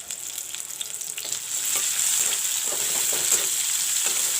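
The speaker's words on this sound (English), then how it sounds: "Fry the onion till golden brown." Sliced onion sizzles steadily in hot mustard oil, a loud continuous crackling hiss that swells after the first moment, with occasional faint stirring scrapes and no voices.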